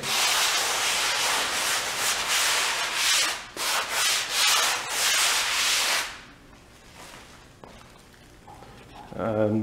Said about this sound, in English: You may require a little extra sanding, but for me it's just pretty much just a little light sanding